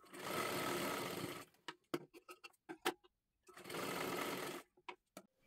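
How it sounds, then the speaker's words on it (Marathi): Sewing machine stitching a fabric strip down its full length, two loud continuous whirring bursts separated by clicks and taps as the cloth is repositioned. "आता ही दुसरी पट्टी ह्या बाजूने जोडून घ्या. हे अशा पद्धतीने ठेवून घ्या ह्याच्यावरती आणि पूर्ण खालीपर्यंत आपल्याला शिलाई करून घ्यायची आहे."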